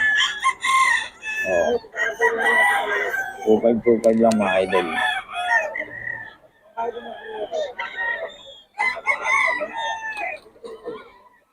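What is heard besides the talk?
roosters crowing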